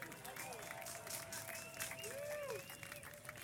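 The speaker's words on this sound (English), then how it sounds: "Big round of applause for you." Sustained applause from a large crowd at the Hogs For The Cause live charity event, steady clapping with cheers and whistles across the whole stretch.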